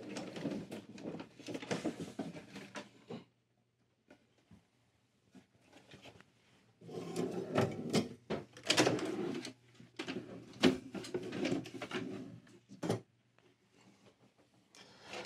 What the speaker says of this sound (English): Pull the drawers open and go ahead and pull the drawers off the slides.